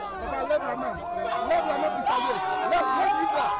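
Jubilant street crowd in Abidjan surrounding Laurent Gbagbo's convoy, a dense babble of many voices with shouts and cheers rising and falling, close and continuous.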